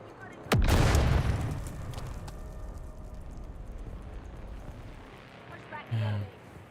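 In the video game Dune Awakening, a bomb detonates with one loud, deep boom that rolls away into a long fading rumble, and a smaller thump follows near the end.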